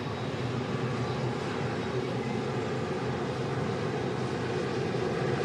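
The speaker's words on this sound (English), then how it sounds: "The Emirates A380" An Emirates Airbus A380 airliner passes close by at Manchester Airport in strong crosswinds, its engines giving a steady, loud broadband roar that holds evenly throughout with no talk.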